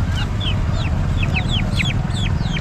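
Chickens and chicks cluck and peep in quick, repeated high chirps at a busy goat and sheep livestock market in Chakan, Maharashtra, close and steady over a constant crowd rumble.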